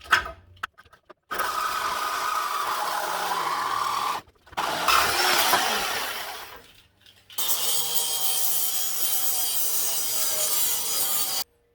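An angle grinder grinds off the sway bar mount bracket on a Fox Body Mustang, running in long, loud, continuous bursts separated by short pauses, with a steadier, higher-pitched pass toward the end.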